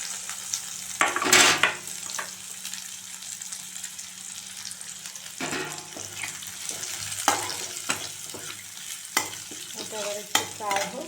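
Chopped onion sizzling in oil already seasoned with cumin seeds, a continuous near crackle with intermittent spatula scrapes and clanks against the pan, no speech.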